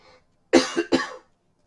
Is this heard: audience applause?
no